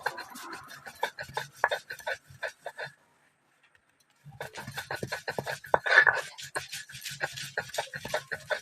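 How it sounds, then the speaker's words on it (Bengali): Grain being ground by hand on a shil-nora grinding stone gives rhythmic rasping scrapes, a steady series of strokes that pauses briefly midway before resuming close up. "তো আমি শিলনোড়াতে এখন বেটে নেব,"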